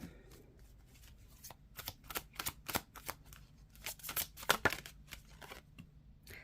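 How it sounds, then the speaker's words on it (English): Close-up riffle of tarot cards being shuffled, a quick run of crisp flutters and snaps repeating in short bursts, with no talking. "Let's shuffle one more time"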